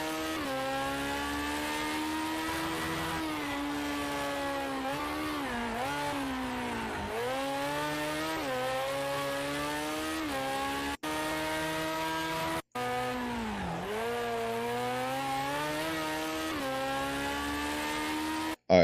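A BAC Mono race car engine screams at full speed in the racing game Project Cars 2, a continuous loud drone rising through gears with sharp dips at shifts and braking, alone without talk.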